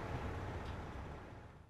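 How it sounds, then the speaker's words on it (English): An air conditioner hums steadily in the background, a low, faint, even rumble with no speech over it. "Please pardon the background noise, my air conditioner going on."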